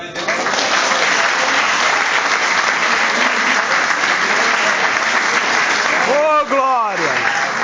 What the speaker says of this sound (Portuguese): Dá uma salva de palmas, você vai entender.